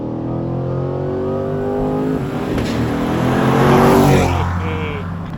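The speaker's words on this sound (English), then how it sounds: "it still does have a very familiar sound, which I love. Pushrod V8 noise" A Chevrolet Corvette C8 with a pushrod V8 accelerates, its deep engine note climbing steadily in pitch and loudness and staying close and dominant, with no talk over it.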